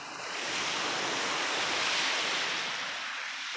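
Steady broadband roar of ocean surf on a quiet beach in Bali, Indonesia, a continuous wash of breaking waves with some wind noise, fairly loud and with no voices.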